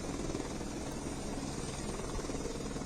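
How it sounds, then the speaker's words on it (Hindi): A helicopter searches for missing people after the Uttarkashi cloudburst, its rotor and engine making a constant, fairly loud whirring roar throughout, with no one speaking. "हेलीकॉप्टर का सहारा लिया जा रहा है।"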